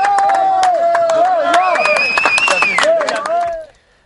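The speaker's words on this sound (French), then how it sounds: "Un exploit salué et applaudi par tous les participants" A crowd of participants claps and cheers after a group jump, with loud close whoops, shouts and scattered clapping that fade out abruptly near the end.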